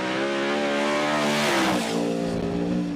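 A BC Racing Ford Mustang RTR Spec 5D drift car roars at full throttle in a Formula Drift pro knockout qualifying run, its engine loud and sustained with rising revs and faint tire squeal.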